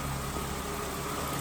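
A Chrysler Crossfire engine idles smoothly after a repair, a steady low hum with even vibration and no other sounds in the brief stretch.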